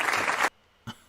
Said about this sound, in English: No one can hear me because of the clapping.